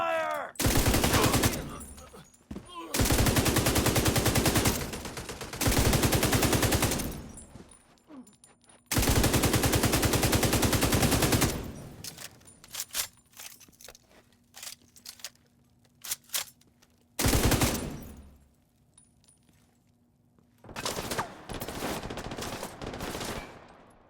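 Gunfire in The Division 2 comes in long, loud automatic bursts separated by short quiet gaps, with rapid repeated shots and a few isolated reports near the end.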